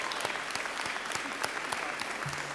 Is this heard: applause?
yes